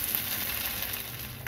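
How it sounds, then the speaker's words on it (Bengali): Palm fruit pulp for a sweet sandesh fries in ghee with a dense, even sizzle and a faint stir near the end, brief and close. "এবার ফ্রাই করে নেব।"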